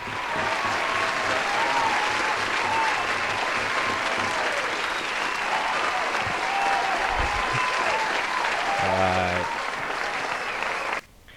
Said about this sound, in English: let's give a round of applause to all our trophy winners.